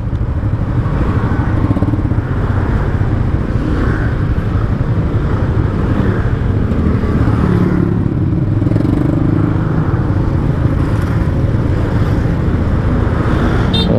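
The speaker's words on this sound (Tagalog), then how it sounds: "Traffic." Steady road traffic with cars and motorcycles passing on Magsaysay Bridge, heard from a Honda Click 125i scooter riding through congestion; a continuous loud rumble of engines with no talk.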